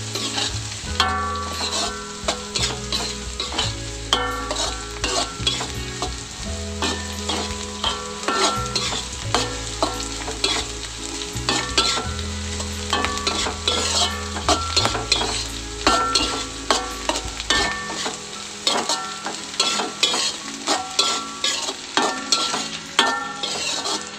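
Tempeh with shallots and garlic is stir-fried in a pan, a busy continuous sizzle broken by repeated scraping stirs and light utensil clinks against the pan, close up and with no voices.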